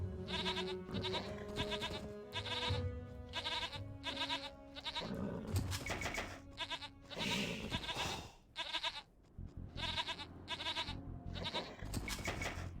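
Sheep in the Age of Empires strategy game bleat over and over in quick, overlapping calls, with a few short pauses between bursts. The cries are faint and sit alone without speech.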